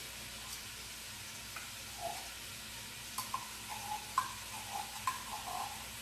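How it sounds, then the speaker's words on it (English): A spoon stirs tomato paste and vegetables in a stew pot over low heat, giving soft scraping and clinking taps that grow busier toward the end, under a faint steady hiss; quiet and close, no voices. "stir your tomato paste around in there and get the vegetables all like coated in it"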